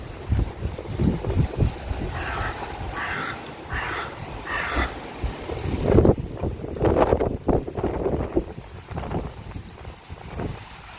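Strong stormy wind batters the microphone during a UK storm, a continuous rough rumble and buffeting with gusty surges, while someone speaks over it.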